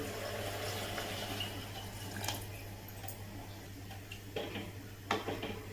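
Hot water is poured into a pav bhaji mixture in a pressure cooker, giving a steady, close wash of splashing flow with a few small clinks along the way.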